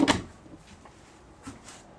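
A small drawer or cupboard door in a Coromal Princeton 501 caravan is opened and shut indoors, giving a sharp close knock at the start and a second, softer knock near the end, with quiet room tone between.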